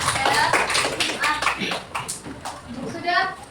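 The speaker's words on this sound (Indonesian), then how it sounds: "Beri tepuk tangan untuk kelompok 3" Classroom clapping for a student group after their presentation, a short burst of claps under overlapping talk from teacher and children.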